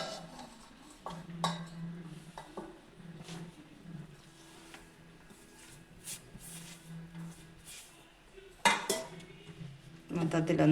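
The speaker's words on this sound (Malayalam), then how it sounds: "ഞാനിതൊരു മുഴുത്ത പാത്രത്തിലേക്ക് ഇട്ടൊന്ന് ഇളക്കിയെടുക്കാം കേട്ടോ" Rice flour being stirred in a large bowl gives irregular clinks and scrapes of a spoon against the vessel, moderately close and fairly quiet, with some intermittent kitchen handling noise.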